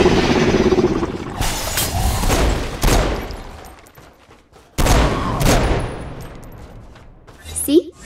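Gunfire during a Saints Row IV mission, loud rapid bursts and a sustained fusillade with a couple of sharp peaks, fading between volleys, no speech over it.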